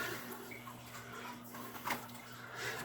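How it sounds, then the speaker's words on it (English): Water splashes and trickles steadily into a shallow gold pan at close range, a soft continuous pouring with light sloshing. "I'm gonna dump some of this water in there."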